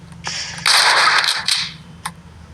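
Gunfire from the video game Specimen Zero during an elevator escape: a loud, close burst of rapid shots followed by one sharp single shot, with no voices.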